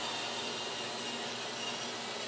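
A Roomba robot vacuum cleaner runs over carpet, giving a steady, loud, close-up whirring hiss that holds unbroken throughout with no voices.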